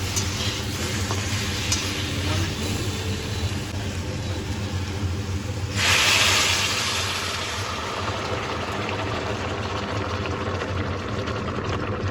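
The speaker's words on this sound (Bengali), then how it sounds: "এবার সব উপকরণ খুব ভালোভাবে নেড়ে চেড়ে 3 থেকে 4 মিনিট সময় ধরে কষিয়ে নিয়ে" Ingredients for a hilsa fish curry with ridge gourd and potato are stirred and fried in a pan, a steady close sizzle running throughout with a louder, brighter burst of frying about halfway through.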